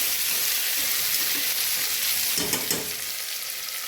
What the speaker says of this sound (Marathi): मस्त परतलं आहे तेलामध्ये